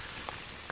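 Steady rain falling near downed, arcing power lines, a dense even hiss with a couple of faint sharper drops, brief and fairly quiet.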